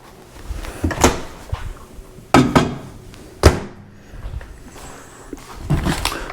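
A series of thumps and clicks from a microwave door being shut, with a few sharp knocks spaced out among quieter handling noises; no one speaks.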